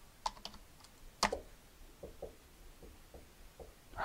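A password is typed on a computer keyboard in a quiet room as a sparse run of soft, close keystroke clicks with uneven gaps between them.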